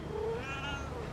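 A house cat gives a short, fairly close meow indoors, one rising and falling call over a quiet room.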